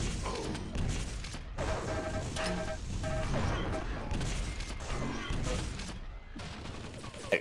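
Railgun fire in a Quake CPM playoff match, a sharp shot among a constant barrage of game weapon blasts, explosions and impacts, loud and dense with a commentator speaking over it.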